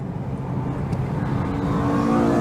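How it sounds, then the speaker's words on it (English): Honda Accord CL9 with a VTEC engine at full power on a race track, a loud rising engine drone that climbs steadily in pitch. "Listen to that, Honda VTEC."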